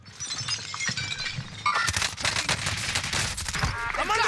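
Rapid bursts of automatic gunfire from the video game Call of Duty Warzone, loud and dense, with sharp cracks and breaking-glass-like impacts rising partway through and continuing to the end.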